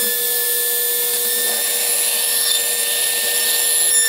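A drill boring a small hole in steel, making a steady high-pitched whine and grinding that holds continuously and fairly loud with no talk.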